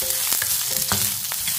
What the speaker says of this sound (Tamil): இதை கொஞ்சம் லைட்டாக வதக்கிக்கிடுவோம்.